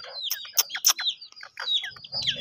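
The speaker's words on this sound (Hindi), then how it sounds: "तोता देख मियाँ मिठू भी देख ये आ गई" A pet parrot called Mian Mithu, kept with other birds at home, gives a rapid string of sharp, shrill squawks and chirps, close and fairly loud, with a faint low rumble near the end.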